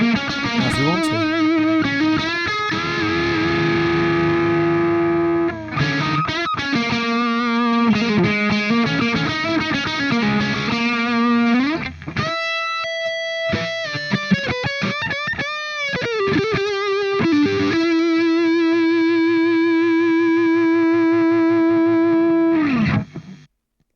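Electric guitar played through a Brainworx Friedman amp plugin with heavy distortion: sustained crunchy chords and riffs with rhythmic palm-muted passages and a brief break of picked notes, loud and alone throughout.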